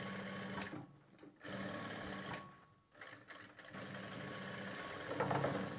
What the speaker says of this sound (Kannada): ಡಬಲ್ ಗೋಡದಲ್ಲೇ ನಾನು ಸ್ಟಿಚ್ ಮಾಡ್ತಾಯಿದ್ದೀನಿ.